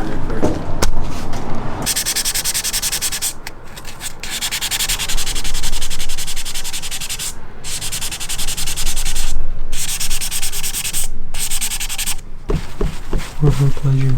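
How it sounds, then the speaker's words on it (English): Hand sanding with 2000 grit sandpaper, loud close rhythmic rasping strokes that run continuously with short breaks, during work on an SR20DET swap project car. "we're just gonna give it a blast over with some 2000 grit"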